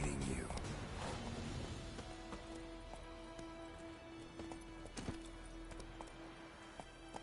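Roach the horse galloping in The Witcher 3, rapid hoof clip-clops running under music and a voice, with a sharp thud midway.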